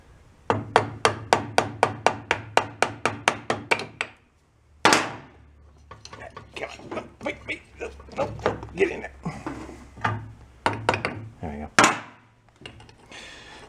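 Close hammer blows on metal parts during assembly of a Rupp mini bike: a fast run of about a dozen sharp, evenly spaced strikes, a single heavy hit, then scattered clanks and taps with brief speech.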